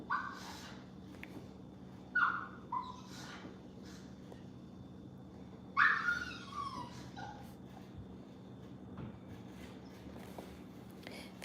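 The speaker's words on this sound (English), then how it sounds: "And then we'll let that one dog in." A dog whimpers and lets out a few short yips at a door, wanting in out of the rain, in brief high bursts separated by quiet stretches, fairly close.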